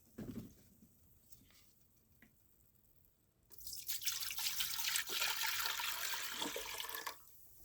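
Three liters of 5% acetic acid vinegar pour steadily into a pan, a broad hissing liquid splash that begins suddenly, runs loud and continuous for about four seconds, then stops, after quieter drips and small taps.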